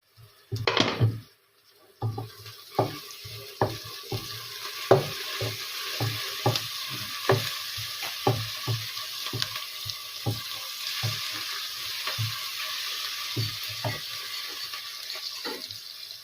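Celery and other ingredients for a mung bean (monggo) dish sizzle as they brown in a pan, a steady frying hiss broken by regular clinks and scrapes of stirring.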